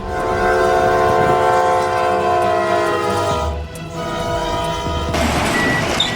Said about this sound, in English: The train was hitting so much snow, the engineer just laid on the horn the whole trip.